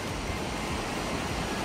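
Rupin River rushing along a mountain trek trail, a dense, constant roar of flowing water that fills everything evenly and loudly, with no voices.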